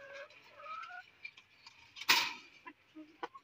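A tiger hen on a farm clucks and calls in short, broken phrases just after laying an egg, close by, with one loud burst of squawking partway through and scattered clicks around it.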